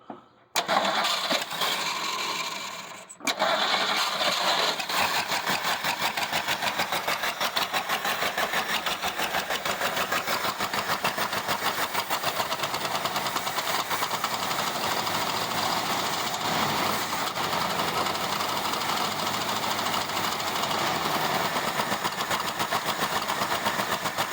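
A neglected 1975 Ford Granada engine cranks briefly, cuts out, then catches and runs loud and steady, its rough idle droning on close by with no talking.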